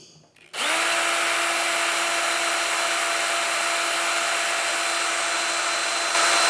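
A power drill starts up after a brief knock and whines at a steady high pitch, loud and close, running continuously to the end while drilling into a plastic container.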